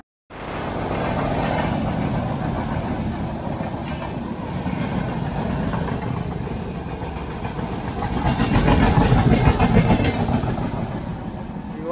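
Passenger train pulling out of Anjani station after a long halt, a continuous rolling rumble with clattering wheels that swells louder toward the end.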